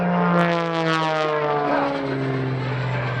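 A single aerobatic biplane's propeller engine roars loudly and close at an Air National Guard open house airshow, its pitch sliding steadily downward as the aircraft passes and pulls away.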